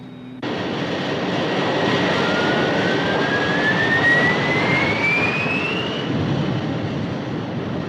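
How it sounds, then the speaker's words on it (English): Aircraft vertical jets roar as the craft hovers over a canyon in an audio drama, a loud jet rush that bursts in suddenly and holds steady with a rising whine, no voices. "Your vertical jets are tipping it over."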